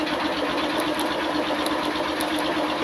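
A Honda Fan motorcycle engine runs steadily at idle close by, a continuous even mechanical hum with faint rhythmic knocking and no speech.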